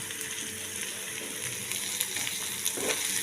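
Onion frying in a pan with Kashmiri chilli nearby, giving a steady close sizzle with faint crackles throughout, no voices.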